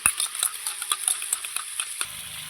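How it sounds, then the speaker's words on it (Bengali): A spoon briskly whisks two spoonfuls of curd in a small bowl, giving quick, regular clinking strokes close up before stopping abruptly. "এখানে দু চামচ দই নিয়েছি একটু ফেটিয়ে নেব"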